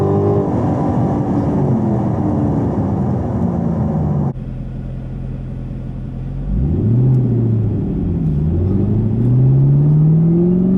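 Loud roaring acceleration of a Chevrolet Camaro ZL1 on a quarter mile run, the engine climbing through a gear, cutting abruptly on a no-lift shift, then surging and rising again in pitch, heard close from inside the car without talk.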